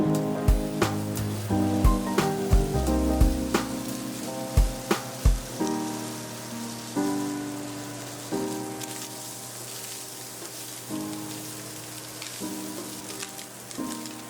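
Spam frying in a pan over medium-high heat, a soft continuous sizzle beneath background music with plucked and tonal notes, fairly quiet.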